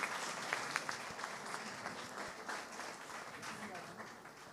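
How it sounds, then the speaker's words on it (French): Audience applause at a Sunday-morning medical conference on prostate cancer: dense, steady clapping from a sizable crowd fills the whole stretch at an even level, with a voice faintly audible beneath it. "On peut applaudir très très fort"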